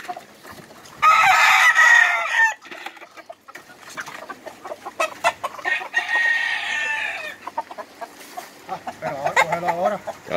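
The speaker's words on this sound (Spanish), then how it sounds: "Ese gallito es grande." A large rooster crows loudly in bursts, with clucking and other fowl sounds between calls, while people talk nearby in Spanish.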